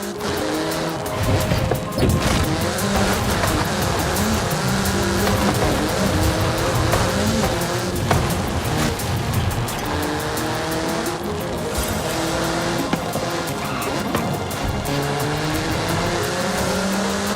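A car drives fast in Forza Motorsport 5's open countryside, its engine roaring loudly and continuously with rising and falling revs, tire squeals and occasional thuds.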